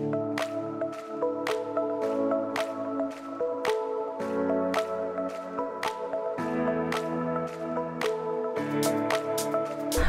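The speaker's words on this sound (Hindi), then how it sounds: "आपको इसमें डालना है और इसको बहुत अच्छे से मिक्स करना है" Henna powder mixed with water for hair dye, heard as close wet squelching and slapping strokes in a steady stirring rhythm, with tonal music in the background and no speech.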